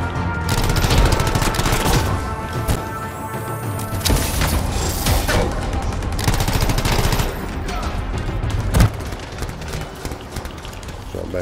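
Sustained gunfire in a shooter video game, with rapid bursts, mechanical clatter and sharp shots throughout, loud and busy, with a voice talking over parts of it.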